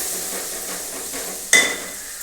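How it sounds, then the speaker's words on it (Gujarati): Chopped onion drops into a hot pan for masala Maggi noodles, a soft steady hiss followed by one sudden louder sizzle burst as the onion hits the oil, then fading crackle. "ડુંગળી નાખીશું"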